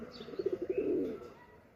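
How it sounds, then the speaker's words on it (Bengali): Pigeons in a rooftop garden give a short, faint run of soft rhythmic coos that swell and then fade, with no talking. "আর কিছু কবুতর আপনার সব সাইড দিয়ে এগুলোতে ঘুরে বেড়াচ্ছে, দেখতে পাচ্ছেন।"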